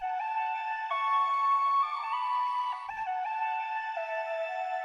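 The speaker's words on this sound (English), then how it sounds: "Added that sparkly reverb again in." Layered chordal music sample washed in a sparkly, shimmering reverb, held tones gliding between chords at an even level, heard alone apart from a short low bump partway through.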